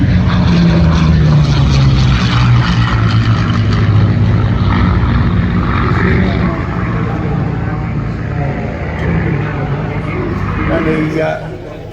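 A propeller warplane with a 1200 horsepower Allison engine flies past at an airshow, its steady loud drone rising and then easing over about twelve seconds, with a voice talking over it throughout.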